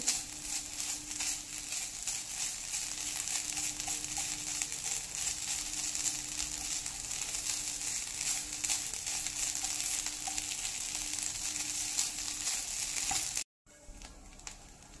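Grated coconut dry-roasting in a pan over a medium gas flame for ukadiche kanavle: a steady close sizzle with soft stirring scrapes that runs unbroken until a short gap near the end.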